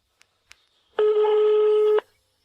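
A telephone call starts with two faint dialing clicks, then a single loud steady tone of about one second, suggesting a busy signal, with no voices.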